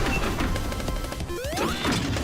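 Boxes smashed open in the Sonic Superstars video game: sharp game-audio crashes and thwacks with a rising sweep, loud and busy over continuous game music.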